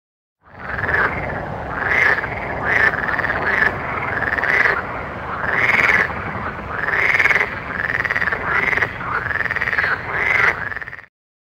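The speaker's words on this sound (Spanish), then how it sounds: "Rana." Loud, continuous frog croaking close by, a rapid raspy pulsing call rising and falling in repeated swells for about ten seconds, alone.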